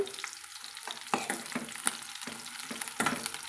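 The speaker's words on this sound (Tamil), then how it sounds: "வெங்காயம் சேர்த்துட்டு நம்ம வதக்கி விட்டுக்கலாங்க வதக்கி விட்டு கூடவே கொஞ்சமாக கருவேப்பிலைகளும் நம்ம சேர்த்து வதக்கலாங்க" Chopped onion and curry leaves sauté in a pan, giving a soft, steady sizzle broken by repeated scraping strokes of a stirring spoon.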